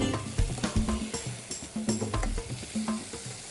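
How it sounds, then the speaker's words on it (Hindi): Chicken frying in olive oil with butter, a close, lively sizzle broken by irregular stirring clatters and bursts of spitting fat. "चिकन को आप कोई 5 से 6 मिनट इसमें फ्राई करेंगे।"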